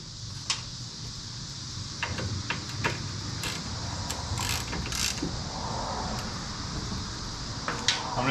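Bolts being snugged up on the seat mount of a 2021 Harley-Davidson Road Glide, with soft ratchet clicks and small metallic mechanism sounds scattered over a steady background hum, close but quiet and without talk.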